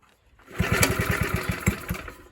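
A Suffolk Squire lawn mower, an old barn find, catches and fires up after a quiet moment, its small engine thudding in a quick run of loud regular pops that slow slightly, with no talk over it.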